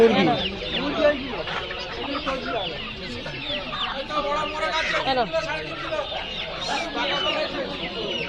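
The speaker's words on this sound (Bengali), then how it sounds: "এখান থেকে একটা মুরগি নেবো, মুরগি।" Chickens cluck and squawk close by at a village poultry market, busy overlapping calls continuing throughout amid a lively crowd with people talking.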